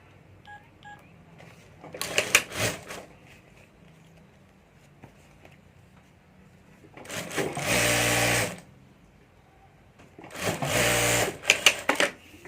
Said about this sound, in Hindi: तो यहाँ मैं तीनों एक साथ रखकर सिलाई कर देता हूँ।